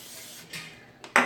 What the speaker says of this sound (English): I'm gonna give this a quick spray.